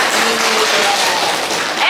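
Classroom of students applauding a group after its presentation, a dense continuous clapping patter at fairly close range, many hands together with a faint undertone of voices.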